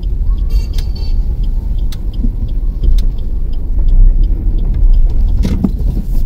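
A car driving on a road, its steady engine and road rumble continuous and close throughout, with occasional faint clicks and rattles inside the cabin.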